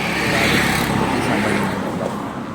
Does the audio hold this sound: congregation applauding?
no